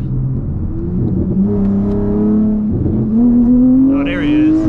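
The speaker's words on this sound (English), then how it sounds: "I'm gonna give y'all a little second gear pull." V6 Dodge Charger with a loud burbling exhaust pulling hard in second gear, engine note climbing steadily with a brief dip at a shift, heard from inside the car with some voice underneath.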